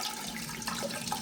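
Water runs from a faucet being flushed of sand and debris, a brief, steady splashing rush at moderate level with no talk over it.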